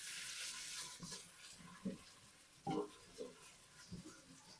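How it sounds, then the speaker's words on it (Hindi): A soft, steady sizzle of crushed garlic and ginger frying in a pan for mash dal, with occasional clinks and stirring sounds over it. "लहसुन अदरक को भी फ्राई कर लें।"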